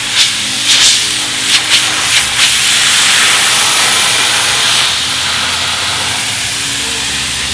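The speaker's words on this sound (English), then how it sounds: "Okay, here's the spraying process." Aerosol glue sprayed onto a jet ski tray mat: a loud, close, broad hiss opening with several short bursts, then one long continuous spray that fades away.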